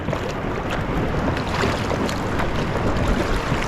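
Broadband rushing water and wind noise as a surfer paddles out through the sea off Bali, the churn steady and close throughout with no voices.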